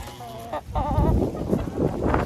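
Laying hens cluck and chatter close by while being fed treats, their squawks rising over a steady hum of flock noise.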